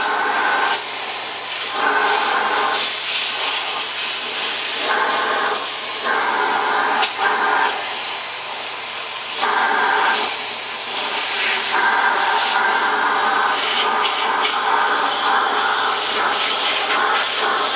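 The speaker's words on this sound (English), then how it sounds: "Alright, vacuum it is." Vacuum cleaner sucking out a DF64 coffee grinder, a steady close hissing whine that changes pitch in bursts as the nozzle moves, loud and continuous with no talking.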